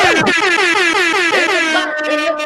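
A loud, blaring air horn sounds in repeated bursts with wavering pitch, like a comedic sound effect.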